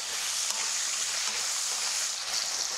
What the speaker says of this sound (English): And now let's stir the potatoes for just about a minute.